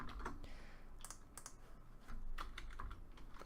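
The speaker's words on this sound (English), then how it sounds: "I can't see my keyboard, so my mic is in the way. I'm touch typing." Touch typing on a computer keyboard, a steady stream of fast light key clicks with irregular rhythm, close and fairly quiet, with no voice.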